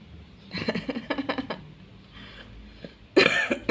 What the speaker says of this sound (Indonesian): Aduh, sampai batuk saya.